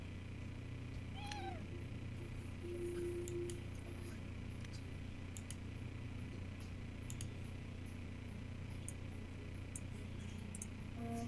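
A single short cat meow rises then falls early on, fairly faint and close, over a steady low hum and light ticking.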